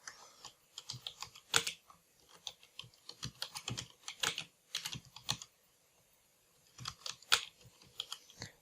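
Someone types on a computer keyboard in quiet bursts of close key taps. The rhythm is uneven, with a brief pause midway and no voices.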